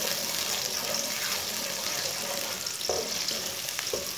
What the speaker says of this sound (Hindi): प्याज डाल लेंगे, प्याज को हल्का सा ब्राउन कर लेंगे